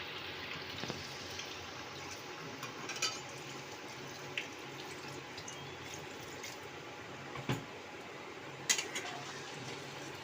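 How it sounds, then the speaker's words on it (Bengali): Water poured into a pan of eggplant and morola fish frying in spices, a steady broad wash of liquid and sizzle with a few brief clinks and taps, fairly faint throughout. "এবার পরিমাণ মতন জল দিয়ে দিতে হবে।"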